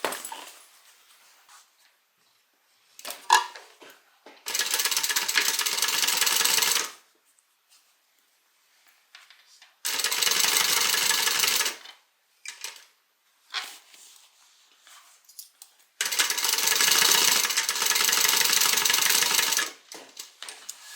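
Sewing machine stitching the nested lining seams of a hobo shoulder bag, running in three sustained bursts of several seconds each with short pauses and small handling clicks between them.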